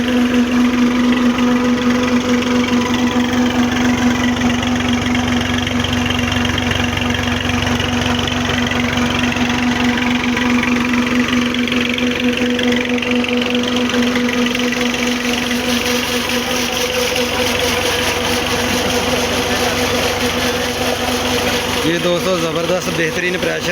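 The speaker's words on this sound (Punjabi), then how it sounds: "ਟਰੈਕਟਰ ਦਾ ਸਾਊਂਡ ਵੀ ਚੈੱਕ ਕਰਵਾਤਾ ਵਾ ਕਿ ਮਤਲਬ ਕਿੰਨੀ ਕੁ ਰੇਸ ਤੇ ਚੱਲ ਰਿਹਾ ਵਾ" A tractor engine runs steadily with a low, constant idling drone and a faint mechanical knock, holding an even level throughout with a slight change near the end.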